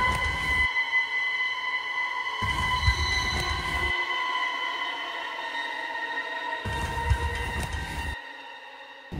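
A third-class train rolls along in Thailand, a steady droning rumble with humming tonal whine from the carriage, the low rattle of wheels cutting in and out in long stretches, with no voices.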